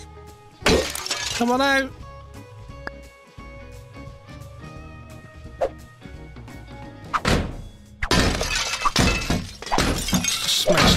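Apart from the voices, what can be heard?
objects smashing in the Kill It With Fire video game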